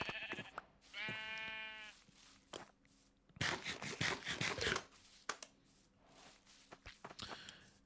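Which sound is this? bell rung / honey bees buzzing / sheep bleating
sheep bleating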